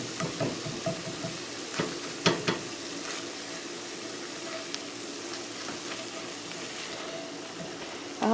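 Crumbled sausage frying in a pan for Zuppa Toscana, with a spatula chopping and scraping through it; a steady soft sizzle runs throughout, punctuated by a few light knocks and scrapes, no one talking.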